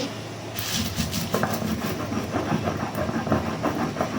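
Spices are ground on a flat grinding stone with a stone roller, making steady rough scraping and rolling strokes close by with some clacks. No one talks.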